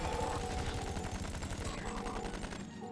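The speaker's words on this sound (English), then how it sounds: "The Tommy gun actually bypasses shield." Rapid automatic fire from a Tommy gun in the video game Star Trek Online, a dense continuous burst of closely spaced shots lasting throughout, loud and steady with faint background tones.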